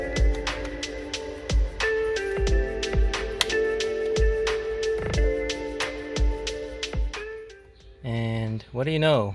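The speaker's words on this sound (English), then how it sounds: "what's making that noise is this fan right here" A faulty cabin temperature sensor fan in a Saab 9-3 Viggen runs with a steady whirring hum, overlaid by regular clicking ticks and a few louder knocks, recorded up close inside the car, with a brief burst of other noise near the end.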